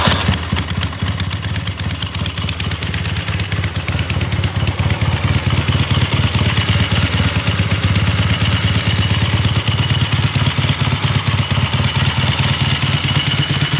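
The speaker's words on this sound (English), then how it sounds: "So prime kick, and it should fire right up." A Triumph T140 Bonneville motorcycle kicks over and fires up, settling into a loud, close, steady idle with a rapid mechanical clatter and throbbing exhaust pulses, no talking.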